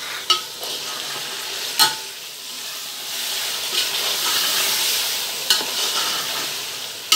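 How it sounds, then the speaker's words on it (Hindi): Green chillies, tomato and yogurt fry in a pan for yakhni pulao, with a steady hissing sizzle throughout, broken by a few sharp scraping clinks of a spoon stirring close by. "अब इसमें हम हरी मिर्च और टमाटर डालेंगे और दही डालेंगे और अच्छी तरह से चला लेंगे।"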